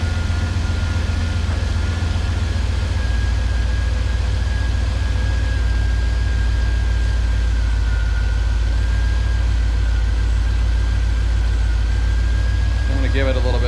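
A Camaro engine idles steadily after an alternator replacement, a loud continuous low rumble with a faint thin whine running through it, heard close and alone with no talking.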